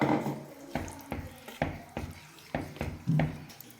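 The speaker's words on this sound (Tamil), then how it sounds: "நம்ம ஒரு அரை கப் தண்ணி சேர்த்துக்கலாம்" Water splashes and clatters into a pot of potato curry in short irregular bursts, with a few metallic knocks, close and moderately loud.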